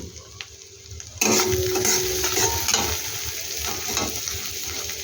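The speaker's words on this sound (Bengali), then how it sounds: "এটাকে একটু ভালো করে আমি নাড়াচাড়া করে নিচ্ছি" Egg bhujia curry stirred in a pan with spices, quiet at first, then a sudden loud burst of sizzling followed by steady stirring and scraping up close, with no talking.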